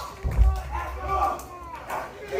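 A wrestling arena crowd roars and cheers under a commentator's excited voice, the noise swelling and staying busy throughout.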